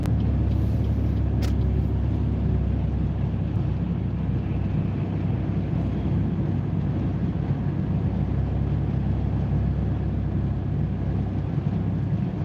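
A car drives on a downtown city road, producing a steady, loud low rumble of engine and road noise throughout with no talking.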